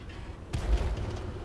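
A tank gun firing in a tank game, a single deep boom with a sudden onset that rolls off over about a second, moderately loud.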